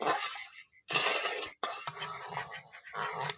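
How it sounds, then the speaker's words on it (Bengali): A spoon stirs sugar and water syrup in a pan for carrot khaja, making rhythmic scraping and swishing strokes with brief pauses between them, close and fairly loud. "এইখানটায় এইভাবে নাড়তে থাকবো সমানে।"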